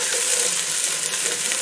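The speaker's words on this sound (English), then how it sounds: "I chopped 2 cloves of garlic. I'm going to stir it around just a little." Chopped garlic, two cloves, stirred in a hot pan for a collard greens and turkey leg dish, giving a loud, close, continuous sizzle throughout.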